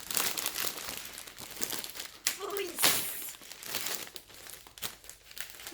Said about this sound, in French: T'as mis du scotch dans tous les côtés. Pas pratique à ouvrir après.